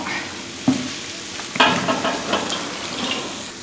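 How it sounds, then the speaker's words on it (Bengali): Mixed vegetables for labra, a Bengali offering dish, are stirred in a sizzling pan, with a spoon scraping and clacking a few times over steady frying, close by. "এইবারে আস্তে আস্তে সমস্ত সবজিগুলো মিশিয়ে নেব।"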